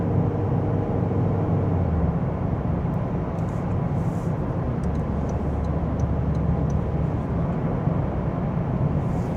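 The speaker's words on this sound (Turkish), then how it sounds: "Bu hızlarda da ses var bu arada. Daha çok yol sesi var." Road noise inside a 2024 Toyota Corolla 1.8 hybrid 140 hp at speed, a steady broadband low rumble and tire roar with faint ticks, constant and enveloping, no talk.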